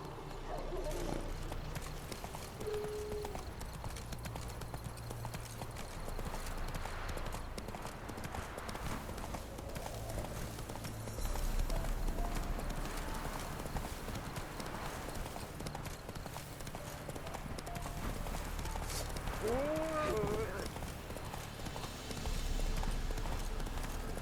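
In The Witcher 3, the hooves of a horse beat steadily in a galloping clip-clop, with the horse's snorting and a short whinny near the end, amid game ambience and a voice speaking briefly.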